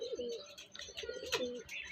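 Andhra Kalanka pigeons coo softly nearby in short repeated throaty phrases, with a few faint chirps mixed between the calls.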